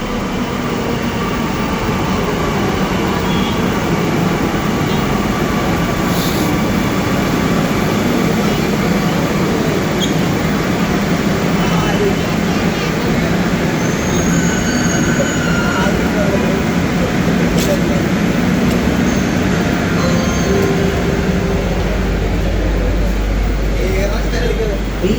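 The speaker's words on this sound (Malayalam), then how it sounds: "അപ്പോൾ അതേ നമ്മുടെ ട്രെയിൻ വന്നിട്ടുണ്ട്" A passenger train pulls into a station with a steady, loud rumble of wheels and carriages that fills the whole stretch, while voices murmur in the background.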